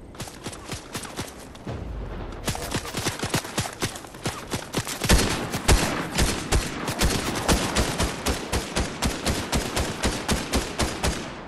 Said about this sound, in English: Oh shit, they're shooting.